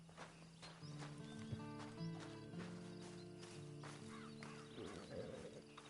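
A horse in the Red Dead Online video game clip-clops at a walk, its hooves thudding steadily and close over a quiet sustained musical tone.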